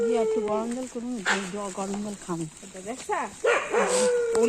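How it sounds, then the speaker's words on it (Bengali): Several dogs bark and yelp in quick bursts, fairly close, overlapping one another throughout. "কুকুরগুলো কিরকম ডাকছে আমার দিদিকে দেখে"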